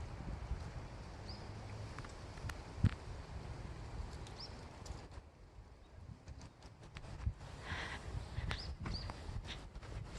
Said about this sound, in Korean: 새소리가 너무 좋네요